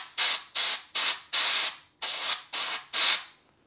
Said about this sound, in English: spray the fan out, make sure it's clean.